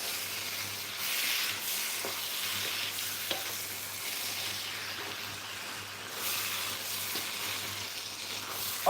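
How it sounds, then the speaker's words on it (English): A kilo of chicken being stirred with the sauce for a rich chicken curry in a pan: soft, steady sizzling and scraping as the pieces are turned, continuous and close with no voices. "Stir this together"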